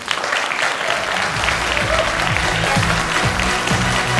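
Audience applause following a keynote address on CG animation for TV at a 2016 creative conference, a dense, steady wash of clapping from a large crowd that holds at full strength throughout.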